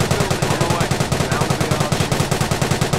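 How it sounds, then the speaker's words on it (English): Sustained machine gun fire in the World War II strategy game Company of Heroes, a loud, rapid, steady stream of shots rattling on for the whole stretch with no pauses. "Dude, you can stop shooting."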